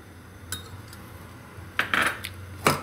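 A metal kadai is handled on a gas stove while making kaju anjeer rolls, giving a few sharp metallic clinks and scrapes close by over a low steady hum.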